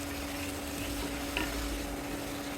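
Spice paste of ginger, garlic and cumin with a little water and ground coriander frying in oil, a steady soft sizzle with faint stirring scrapes throughout, no voices.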